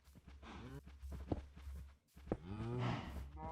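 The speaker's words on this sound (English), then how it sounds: "And the cows are annoying." Cows in Minecraft moo twice, close and fairly loud, each low drawn-out call separated by a brief pause, with faint blocky footsteps underneath.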